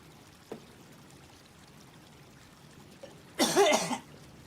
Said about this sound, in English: followed by a very cute, absolutely dying coughing sounds